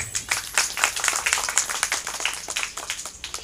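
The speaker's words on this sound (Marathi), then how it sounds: "एकदा टाळ्या वाजवा" An audience at a village public meeting in Maharashtra breaks into brief, busy applause. Scattered claps overlap in a quick patter at moderate loudness.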